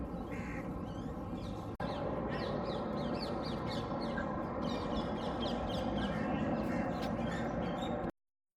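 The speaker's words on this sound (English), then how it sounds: "instead of Timon, we have a crow riding on Pumbaa" At the Delhi zoo, a crow caws amid a dense, constant chorus of bird calls and outdoor noise that runs loudly throughout.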